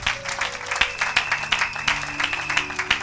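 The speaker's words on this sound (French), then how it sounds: "Acclamez pour la gloire de notre Dieu." A church congregation claps in rapid, uneven bursts through a worship service, steady loud applause with a held organ or keyboard tone underneath.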